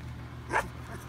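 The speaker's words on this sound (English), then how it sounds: "Yeah, you're barking, little girl." A single short, high yelp from a puppy rises briefly over a low steady hum, close by and fairly faint.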